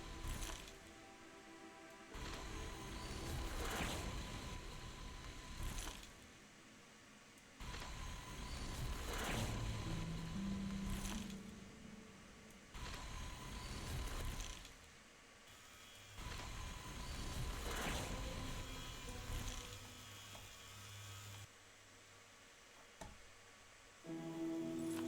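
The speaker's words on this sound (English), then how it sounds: "I can hear my grapplers are working to pull in something" Grapplers pulling in debris in a space game, giving repeated mechanical ratcheting and clanking bursts that start and stop over a steady low engine hum, with short quiet gaps between the bursts.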